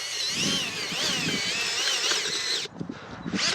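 A power auger boring planting holes in soil for Miscanthus rhizomes whines loudly and steadily, dips briefly near the end, then revs back up.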